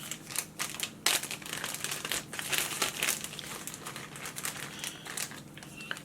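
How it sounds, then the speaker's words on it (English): Thin plastic zip-top bag crinkling and rustling close by as an absorbent pad is pushed inside, a run of sharp, irregular crackles with a few louder bursts and no voices. "we are going to first place the absorbent pad in the Ziploc bag"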